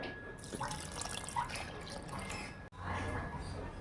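Water trickles and splashes steadily into a vessel nearby, with a brief cut midway before the flow continues.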